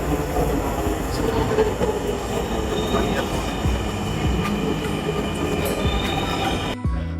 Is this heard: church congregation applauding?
no